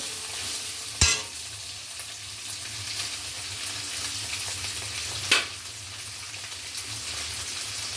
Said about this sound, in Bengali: ভালো করে নেড়ে অনেকক্ষণ ধরে কষতে হবে।